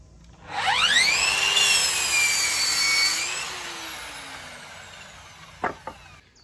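A power saw cuts timber studs to 2-metre lengths in a cutting jig while a cabin workshop frame is built. The blade whines up, holds for a few seconds through the cut, winds down, then two short knocks follow.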